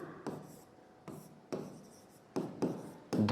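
Handwriting a heading, likely on paper, heard as a few short, close scratchy pen strokes in separate bursts with quiet pauses between them.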